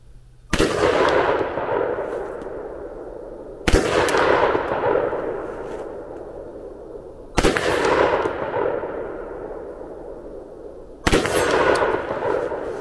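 Four loud, close gunshots from a 10.5-inch AR rifle firing Tula ammunition, spaced about three to four seconds apart, each with a sharp crack and a long decaying echo outdoors.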